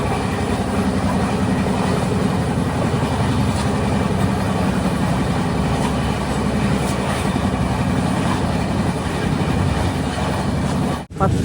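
The Rapti Sagar Express rolls into Varkala railway station, heard from inside the train as a loud steady rumble of carriages with faint rhythmic wheel clatter throughout.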